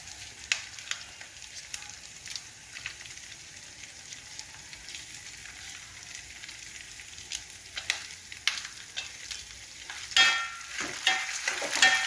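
Chopped green chillies frying in a pan for a nalleru chutney, a soft continuous sizzle with occasional stirring clicks, growing louder and busier toward the end, no voices.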